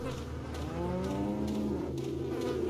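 Cows mooing in the 2005 video game Resident Evil 4, several long, low, drawn-out moos overlapping at moderate distance over a steady farmyard ambience, with no talk.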